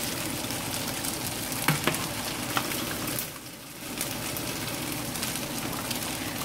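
Chinese-style chicken wings deep-fry in hot oil with a continuous dense crackling sizzle, dotted by a few sharper pops, briefly easing for a moment before the steady bubbling resumes, with no one talking.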